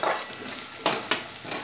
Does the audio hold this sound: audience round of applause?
no